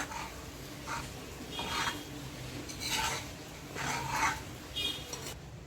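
Methi bhaji of fenugreek leaves being stirred with a spoon in a pan, with soft scraping and rubbing strokes that rise and fall in irregular bursts, close and fairly quiet, with no talking.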